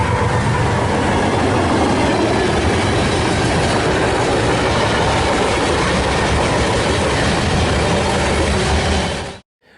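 Train 191 departs Downers Grove station, a loud, close, continuous rumble of rolling railcars with rhythmic wheel clatter and faint squeals, cutting off abruptly at the end.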